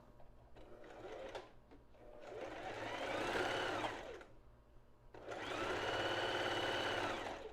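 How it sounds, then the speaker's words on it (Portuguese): A domestic sewing machine stitches lingerie fabric in two sustained whirring runs separated by a brief pause, with a short backstitch burst at the start; the motor hum is close and steady, with no voices. "Começa e dá um retrocesso para costurar até o final."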